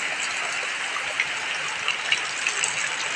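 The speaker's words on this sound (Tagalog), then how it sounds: "So, it's raining." Steady rain falls during a typhoon in the Philippines, making a dense, even hiss with a few brief drip spikes, heard alone at a constant level.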